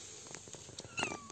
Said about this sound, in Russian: А это вот как раз новенькая кошка, которую буквально